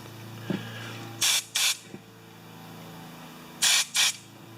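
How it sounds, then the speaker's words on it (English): Two pairs of short, sharp carburetor cleaner spray bursts on a John Deere JS30 mower, each pair quick back-to-back, separated by a pause over a low mechanical hum, close by. "there should be carb spray come out the end by my fingernail"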